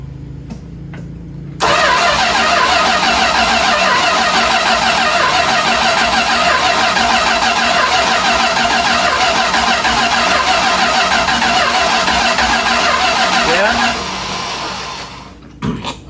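A 1978 Dodge D150 truck engine, neglected and low on fuel, cranks with a loud, churning, rhythmic whir for about twelve seconds, then winds down and stops; close and loud, no voices.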